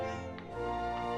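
A cat in the video game Dragon Quest XI S: Echoes of an Elusive Age - Definitive Edition gives a short, faint meow over steady in-game background music.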